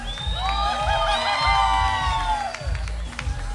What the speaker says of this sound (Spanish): Aplausos para la segunda.